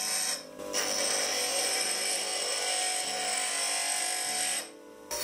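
A bench grinder grinds a broken drill bit into a lathe cutting tool, a loud continuous bright scraping whine for about four seconds between brief dips as the steel is lifted off the wheel, close and without talk.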